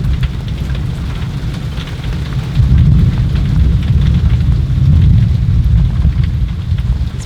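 Heavy tropical rain pours steadily during a lightning storm at a sailboat anchorage, a loud, dense hiss with deep rumbling that swells midway.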